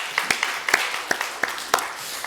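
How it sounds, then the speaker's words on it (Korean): A church congregation applauding during a worship service, scattered claps from a modest group, fairly close and uneven, lasting about two seconds. "하나님께 영광의 박수 돌리겠습니다."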